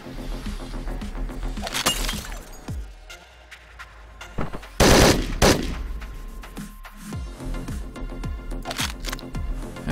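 Gunfire and shattering crashes from the Hotline Miami 2 video game sound in repeated sharp bursts over a steady music bed, with one especially loud blast near the middle and scattered smaller impacts around it.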